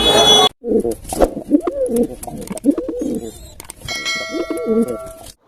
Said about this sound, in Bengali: দেখলাম অনেক কবুতর রয়েছে